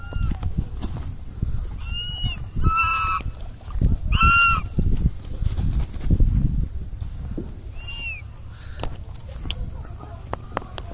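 Ducks honk in several bursts of nasal calls beside the Jagannath temple in an Odisha village, set against a steady low rumble of outdoor background noise.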